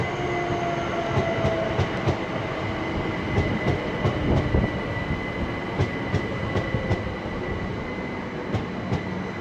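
A Class 387 electric passenger train on the Great Western main line at Slough rolls steadily past nearby, its deep rumble broken by rhythmic clicking over rail joints and a faint high electric whine; no voices.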